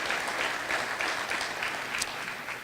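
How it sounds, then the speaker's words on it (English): A crowd at a Clean Water Rule policy event breaks into sustained applause, a steady, fairly distant wash of many hands clapping with no talk over it. "please applaud to that one"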